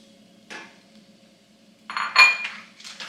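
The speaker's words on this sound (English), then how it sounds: "We're going to add in our mushrooms." Mushrooms tumbling into a pan while cooking a galette filling: a soft clatter, then a louder clinking, rustling burst near the end, fairly close with no talk.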